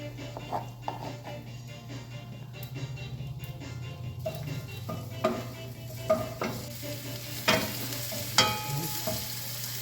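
Squash and turkey meat fry in a pan with a steady sizzle while a utensil stirs and scrapes, giving irregular clinks and taps over the continuous hiss.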